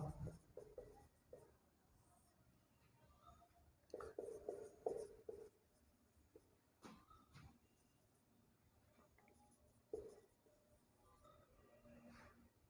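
Marker or chalk writing on a board in a Hindi-language lesson on stages of child development, with faint scratchy strokes coming in short bursts at a modest level and no talk over them.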